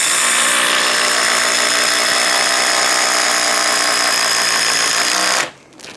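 A Ryobi HP impact driver drives a 5-inch screw in one loud, continuous hammering rattle that runs for over five seconds before cutting off abruptly, close up.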